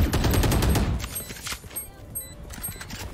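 Rapid gunfire in Valorant crackles in a quick burst of close, loud shots, then thins to a few scattered pops and faint clatter as the shooting stops.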